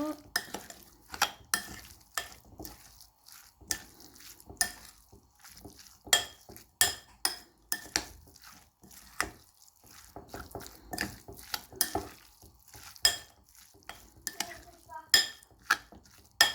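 Olive oil and stuffing mixed together in a bowl, giving repeated sharp clinks and scrapes of a utensil against the dish in an uneven rhythm, close and moderately loud with faint background noise.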